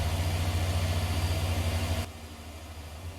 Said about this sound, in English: So the John Deere tractor has just arrived.